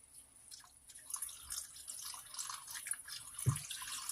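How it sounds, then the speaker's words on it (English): Faint trickling and splashing as bottled water is poured into a pot, with a soft low thunk partway through, quiet and close. "I'm going to pour some water in here."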